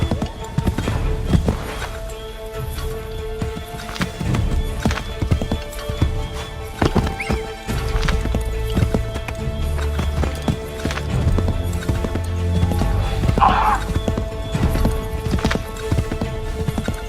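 Horse hooves clip-clop at a gallop in Assassin's Creed 3, a steady drumming close by over game music and ambience, with a brief whinny partway through.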